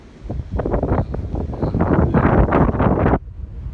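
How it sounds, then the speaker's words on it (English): Strong wind gusts through sycamore trees by a pasture on a cold, stormy day, a loud roaring rush with heavy buffeting on the microphone that cuts off abruptly near the end. "You can hear the wind."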